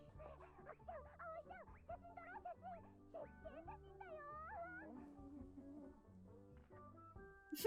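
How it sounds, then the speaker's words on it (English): A pack of dogs in a van whimper and whine in wavering, overlapping high cries that continue steadily, fairly close. "a whole pack of dogs are in that car, in that van."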